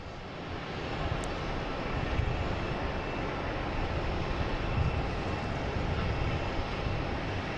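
Airbus A321 airliner on flight 1098 to Minneapolis at Boston Logan, its engines a steady broadband roar that holds evenly throughout at a moderate distance.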